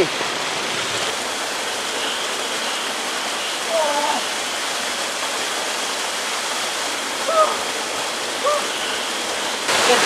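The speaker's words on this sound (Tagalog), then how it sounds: "maliligo muna tayo dito sa Batis" A mountain stream beside a bushcraft campsite rushes in a steady broadband wash of flowing water throughout, with a few faint chirps or voices briefly above it.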